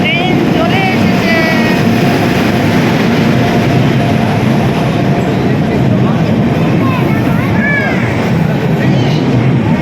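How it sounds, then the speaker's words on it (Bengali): Train arriving at a station, a loud continuous rumble and roar of wheels on rails with high squealing brakes now and then, people talking underneath. "আমাদের ট্রেন চলে এসেছে।"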